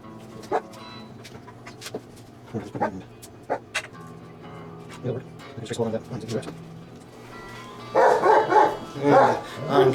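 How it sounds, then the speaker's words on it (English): A dog barks in a workshop during guitar building, with scattered single barks at first and then a louder burst of rapid close barks. Faint yips and whimpers sit between the barks. "the dog barks as soon as I hit record"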